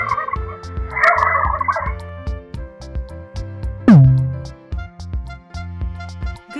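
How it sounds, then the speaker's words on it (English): A turkey gobbles in a rapid rattling series of calls, then gives a loud single call, followed by more short gobbling bursts, close and clear with no talk. "Turkey."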